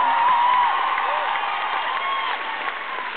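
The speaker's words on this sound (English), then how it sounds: "Give him a round of applause." A concert crowd applauds and cheers for the drummer at a show in Minneapolis, a steady roar of clapping with scattered whoops that slowly tapers, heard through a muffled, band-limited recording.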